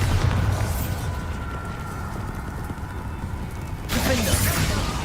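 Bombarda explosion spell cast in Hogwarts Legacy: a sudden booming burst near the end breaks through a dense, rumbling game background.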